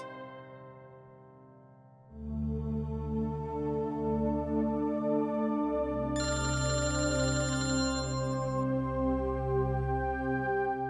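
A mobile phone plays a melodic ringtone, starting faintly and then becoming a steady, loud musical tune that repeats without pause for about nine seconds.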